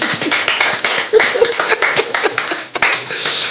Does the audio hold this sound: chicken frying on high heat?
no